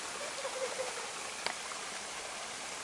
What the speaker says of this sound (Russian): Это источник, свежий источник.